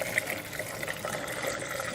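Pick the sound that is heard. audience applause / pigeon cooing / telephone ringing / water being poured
water being poured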